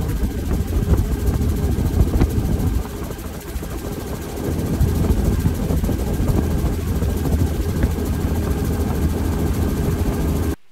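A loud, steady helicopter engine roar from an open-door helicopter, with a heavy low rumble and constant rotor thrum, filling the whole stretch without pause.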